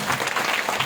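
A church congregation claps loudly during hymn singing. The brief burst is dense and even, with no pause.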